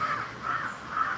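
Several crows caw in three drawn-out, evenly spaced calls, fairly close and clear against a quiet background with no talking.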